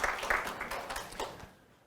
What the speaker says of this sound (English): I want you guys to give Stephanie and Terry and Don a round of applause